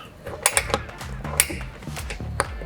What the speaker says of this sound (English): latch open, push the roof up